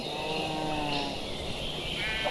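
Sheep in a blocky Minecraft-style survival game bleat in short wavering calls over a steady background of game music and ambience, fairly clear and close.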